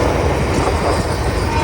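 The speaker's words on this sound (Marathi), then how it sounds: "पण काय आमच्या समोर ट्रेन गेली" A train rushes past close by, its loud, steady rumble and rattling wheels filling the whole stretch without a break.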